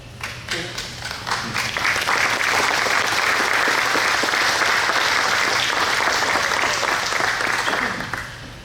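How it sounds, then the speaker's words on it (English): A crowd audience claps loudly and continuously for about eight seconds, a full, sustained roar of applause that swells early and tapers off at the end, with no talk over it. "Thank you for the applause"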